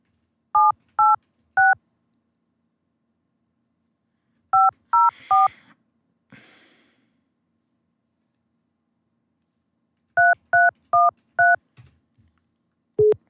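Telephone keypad tones beep in three quick bursts of several digits each, separated by pauses, with a faint click and short rustle between them and a single lower tone at the end.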